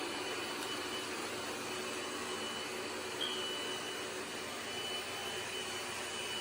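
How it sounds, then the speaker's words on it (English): A Bcdroid A10 Ultra robot vacuum with 25,000Pa suction vacuums and mops at once, a constant whirring motor drone with airy rushing at steady moderate loudness. "it's vacuuming while it's mopping at the same"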